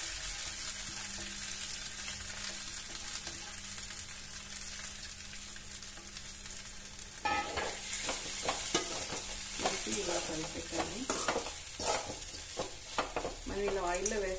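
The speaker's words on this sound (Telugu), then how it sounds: "ఇప్పుడు ఈ సేమియాని మనం ఇందులో వేసుకుందాము." Ragi semiya being added to a pan of hot tempering oil and fried, a steady low sizzle that grows busier with stirring and scraping about halfway through, close and fairly quiet, no voices.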